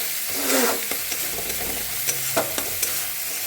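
Spices frying in a pan for a parshe fish curry with mustard, a close, continuous sizzle broken by sharp scraping stirs of a spatula and occasional clinks.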